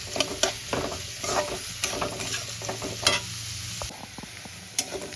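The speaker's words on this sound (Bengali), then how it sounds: "পেঁয়াজটা আমি লাল লাল করে ভাজবো।" Chopped onion sizzling in a hot pan for a Bengali prawn dal, with steady frying crackle broken by repeated scraping stirs of a utensil, close and moderately loud, no voices.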